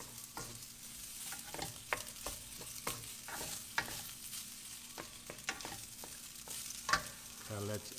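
Ingredients being stirred in a hot pan with olive oil, a spoon scraping in repeated short strokes over a steady background sizzle, close and fairly quiet.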